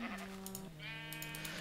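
Sheep in the Minecraft video game bleat twice in quick succession, clear wavering game-sound cries with no talking.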